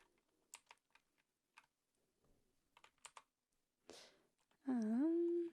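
Someone types on a computer keyboard in scattered bursts of soft clicks with pauses in between. A brief sustained synth or piano tone from music software comes in at the end.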